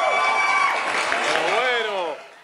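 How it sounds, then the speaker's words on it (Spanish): Audience applauding and cheering for a producer, with a loud wash of crowd noise and voices calling out, then dropping off sharply near the end. "para quien pedimos un gran aplauso"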